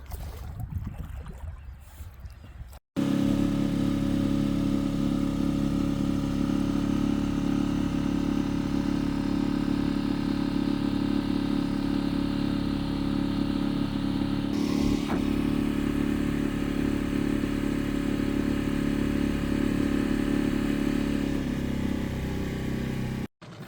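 An outboard boat engine starts up after a few seconds of quiet and runs loud and steady close by on shallow water, with a brief bump partway through.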